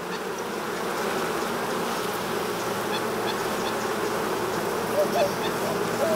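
Honey bees swarm and buzz around an opened beehive as it is reassembled, a steady dense drone close by that holds level and unbroken throughout.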